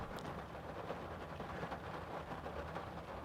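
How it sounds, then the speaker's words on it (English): Steady rain falls outdoors, a dense, even hiss that runs unbroken and fairly close for the whole stretch, with no voices over it. "As you can hear, it's raining out"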